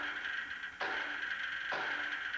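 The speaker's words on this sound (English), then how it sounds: "If the ball did hit the pole, you would have heard a sound like this" Two sharp metallic clangs of a baseball hitting a metal foul pole, about a second apart, each leaving a bright ringing tone that hangs in the air.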